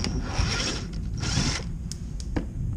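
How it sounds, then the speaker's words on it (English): A T20 driver backs out front bumper screws on a 2015 Vauxhall/Opel Corsa, giving close, steady scraping and whirring tool noise with a few short clicks, no voices. "with a T20, you're gonna have to unscrew these screws"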